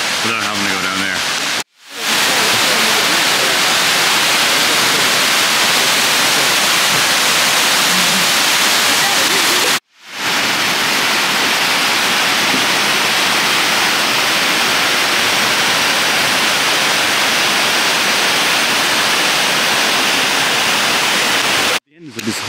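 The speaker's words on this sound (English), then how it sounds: "this is a really impressive waterfall" A large waterfall in Laos pours as a loud, dense, unbroken roar of rushing water, heard close and steady throughout, cut by two brief dropouts.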